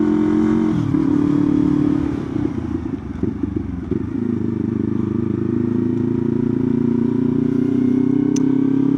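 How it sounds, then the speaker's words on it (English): A motor vehicle on a busy rush-hour road rumbles past close by, a loud engine drone that dips and clatters briefly in the middle, then settles into a steady hum as traffic continues. "I can hear a vehicle coming"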